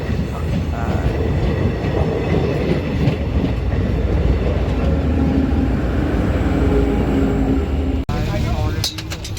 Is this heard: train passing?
yes